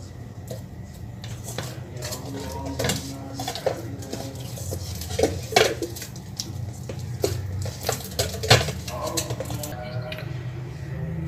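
Bakpao dough is stirred and slapped in a bowl, a steady run of close, wet squishes, taps and thuds with irregular louder slams and occasional clinks of a utensil; no clear talking.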